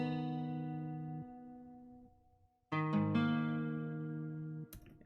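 An electric guitar plays a simple sustained melody through a tube-style preamp preset, with long ringing notes, a short gap, then another phrase, clean and alone without talk.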